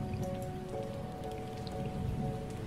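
Steady rain patters on surfaces in a scene from the video game WILL: A Wonderful World, a continuous close hiss of droplets with no speech over it.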